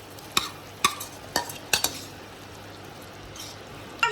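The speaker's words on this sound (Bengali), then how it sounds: "তো এবার আমি আলুটা জাস্ট মিশিয়ে দেবো।" Potatoes stirred into boiling gravy, a spoon scraping and knocking against the pot in several sharp separate strikes over a low simmering bubble, close and without talk.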